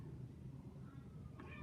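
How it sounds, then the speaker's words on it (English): A house cat meows softly nearby, short tonal calls rising over a low background hum during a quiet moment in a bracelet-making session. "Sorry, that's my cat."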